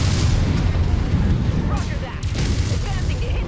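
A turret destroyed by an explosion in the video game MechWarrior 5, heavy booming blasts with a rumbling low end, loud and close, followed by further impacts and debris.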